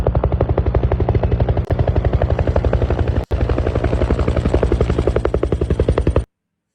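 A helicopter thunders nearby, its rotor blades chopping in a fast, even pulse that stays loud and steady, broken by two sharp instantaneous dropouts before it cuts off abruptly.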